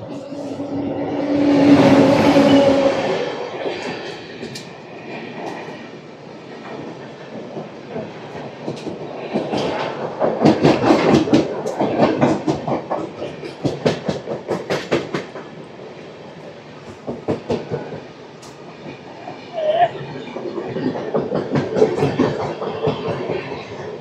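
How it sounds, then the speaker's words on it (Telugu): The Santragachi–Tirupati superfast express pulls into a station, a loud rumbling swell followed by rhythmic wheel clatter and clacking over rail joints that rises and fades, with rain and station ambience around it. "22855 వస్తుంది. సంతరగచ్చి నుంచి తిరుపతి వరకు వెళ్ళే సూపర్ ఫాస్ట్ ఎక్స్ప్రెస్."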